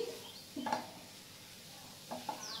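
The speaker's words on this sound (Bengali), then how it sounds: "এটাকে আমি ভালো করে নেড়ে চেড়ে নিচ্ছি" Sweet coconut filling for patties being stirred in a pan, giving a few soft scraping stirs with a light sizzle, close and fairly quiet, with no talking.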